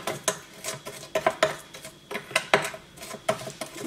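Lip scrub ingredients being mixed in a bowl, with a utensil clinking and scraping against the bowl in quick irregular taps and stirs, close and fairly loud.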